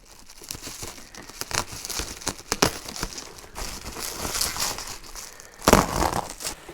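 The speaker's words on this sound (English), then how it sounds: "I think I'm just going to cut this along the top." Sealed package wrapped in bubble wrap being cut open along the top for an FPV wing unboxing, giving crinkling, crackling plastic and tearing sounds in irregular bursts, close and fairly loud, with a sharper tear near the end.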